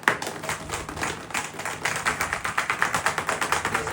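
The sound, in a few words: speed skate bearings rattling in a shaken bottle of cleaning solution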